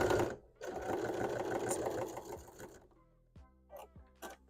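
A sewing machine stitches the pocket of a sewn Greninja hat through three layers of fabric, running in a fast steady rattle for nearly three seconds before stopping, followed by quiet handling clicks.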